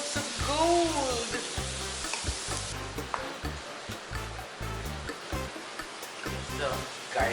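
Onions frying in annatto oil for a Batangas-style goat stew: a steady bright sizzle, strongest at the start, with someone talking over it throughout.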